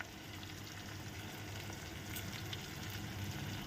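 Fenugreek seeds tempering in hot oil, giving a steady close sizzle with faint crackle that stays even for a few seconds, with no one talking.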